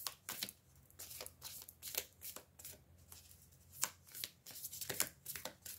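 Tarot cards are shuffled by hand, a quiet close-up series of crisp riffling bursts in an uneven rhythm, with no talking.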